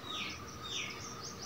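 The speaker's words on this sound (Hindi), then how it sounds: "और यहाँ देखिए चिड़ियों ने शोर मचाया हुआ है, ऊपर ऊपर सारी दरख्त के ऊपर ऊपर बैठी हैं।" Small birds chirp in the treetops above a guava orchard, with faint, distant high calls repeating over a soft, steady background hiss.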